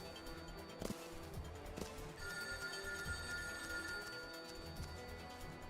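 Telephone ringing inside the video game Final Fantasy XIII: Lightning Returns, a repeating electronic bell tone over faint game ambience and footsteps, fairly quiet and steady throughout.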